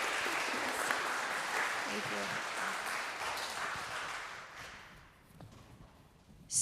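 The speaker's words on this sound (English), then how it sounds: "Let's have a warm round of applause for our wonderful volunteers" A warm round of applause for volunteers at a baccalaureate and bridging church service, steady clapping from a congregation that fades toward the end as a voice speaks briefly.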